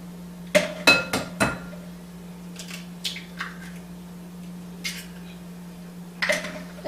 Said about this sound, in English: And then you want to crack in your eggs.